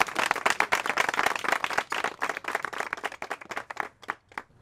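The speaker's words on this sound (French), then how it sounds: "Applaudissements pour Monsieur Victor." Applause from an audience at the inauguration of a large garage, a dense burst of clapping that thins into scattered individual claps before fading out.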